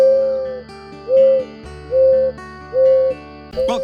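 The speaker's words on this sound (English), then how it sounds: "It's the mourning dove," A mourning dove gives its soft, hollow coos, four clear, evenly spaced notes heard up close and loud against a faint background.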